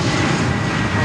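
An aircraft passes at Miami Airport, its engines giving a loud, steady, broadband roar throughout the brief moment.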